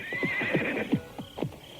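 A horse's hooves clip-clop steadily across a yard before an upland hut, with a whinny over the top, then the footfalls slow and come to a halt.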